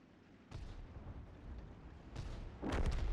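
Tank cannon shots in the video game World of Tanks: two or three muffled, distant booms land in quick succession over a faint ambient hiss, the last one slightly louder.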